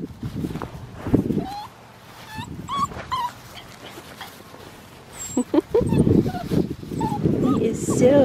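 A six-week-old red tri male Australian Shepherd puppy whimpers and yips in short high bursts, close by, while someone talks softly over much of it.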